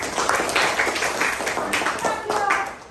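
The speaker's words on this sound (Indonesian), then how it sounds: "tepuk tangan dong" Indonesian classroom participants clap after a group presentation on the properties of light, a few seconds of moderately loud, uneven hand claps with some voices mixed in.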